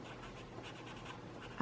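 Colored pencil moving across paper while drawing and blending, a steady soft scratchy rustle that continues without pause, faint and close, with no voices.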